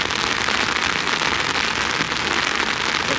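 Heavy rain pours steadily on an umbrella and a hot spring pool in Yellowstone, a dense, close, continuous patter with no voices.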